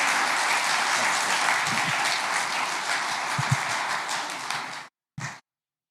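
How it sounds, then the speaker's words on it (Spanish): An audience in a church claps loudly in welcome for a guest pastor, a steady dense applause that stops abruptly, followed by one brief final burst. "recibimos al pastor Gonzalo con un aplauso de bienvenida calurosa"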